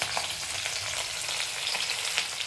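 Green chillies frying in a hot pan for shavige upma, a dense continuous sizzle and crackle with faint stirring, close and steady, no voices.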